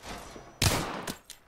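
Gunfire in the video game Apex Legends: a loud burst of shots that sustains for several tenths of a second, followed by two shorter, sharper bursts, all close and forceful with no talking.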